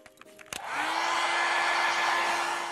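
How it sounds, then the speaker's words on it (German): A hair dryer blows steadily on a napkin-decoupage gift bag craft, switching on with a click after brief faint sounds and then running as a loud, continuous whoosh with a constant motor hum. "wir machen jetzt eine kurze Föhnpause"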